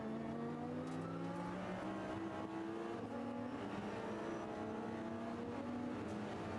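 Several race cars accelerate hard at Zolder circuit as an Audi overtakes a Porsche during a 2011 Dutch Supercars event, engines rising steadily in pitch with layered, overlapping revs, loud and continuous with no talk.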